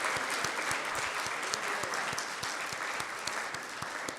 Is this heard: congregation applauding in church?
yes